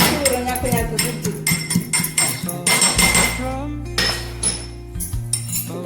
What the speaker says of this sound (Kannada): ಬೆಳ್ಳುಳ್ಳಿ ಗುದ್ದುದು